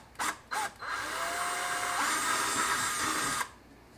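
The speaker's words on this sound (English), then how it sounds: "use a smaller drill than you're going to need and drill your pilot holes" A couple of short drill bursts, then a sustained whirring drill run lasting a few seconds before stopping, close by, drilling small pilot holes in a Casio SK1 toy synth.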